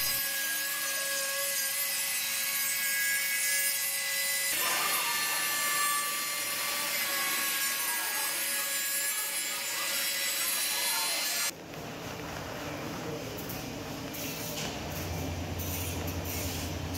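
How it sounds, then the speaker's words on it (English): A fast-spinning router cuts slowly through MDF side panels for an arcade cabinet, giving a sustained close, loud whining grind with a shift in tone partway through as the cut changes. "Now off to routering the side panels. Take it nice and slow. This thing is spinning really fast."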